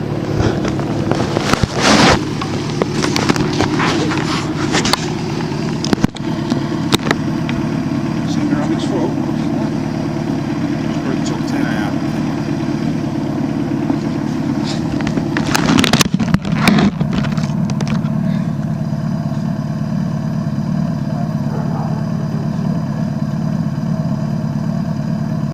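A motorbike engine idles steadily at close range while the rider shuts gates and parks, with a few sharp clanks and bumps over the low continuous rumble.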